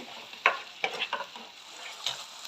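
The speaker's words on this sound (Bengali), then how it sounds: "এর মধ্যে অ্যাড করব লবণ, দিয়ে নাড়াচাড়া করে নেব যতক্ষণ না তেল ছেড়ে দিচ্ছে মশলা থেকে।" Spiced masala with salt being stirred in a pan, a few scraping strokes of the spoon over a soft sizzle, close and moderately quiet.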